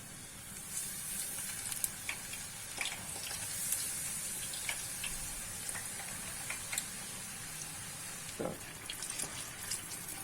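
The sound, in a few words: eggplant frying in oil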